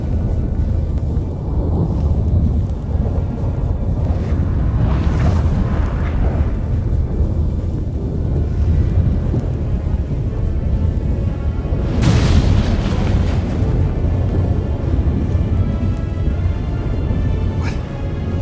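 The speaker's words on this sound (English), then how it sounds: "What the? That a storm?" Stormy weather in the video game The Witcher 3, a continuous low rumbling roar with heavy wind-like wash and a couple of swelling thunderous surges, loud and unbroken.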